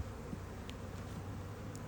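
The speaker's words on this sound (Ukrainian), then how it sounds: "трошки повиходило бджілки, бо холодно" Low, steady buzzing of bees hovering close by, a continuous insect drone with no voices.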